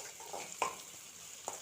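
Spices sizzling in hot oil for a sambar tempering, a low steady fry with a couple of brief sharp crackles and pops standing out, close and quiet, no talk.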